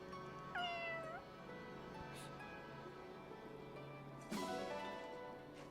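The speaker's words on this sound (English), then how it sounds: "What's a Fearnese cat doing here?" A cat in the video game Fire Emblem Engage meows twice, a short rising-falling call followed a few seconds later by a second, sharper one, clear over quiet background game ambience.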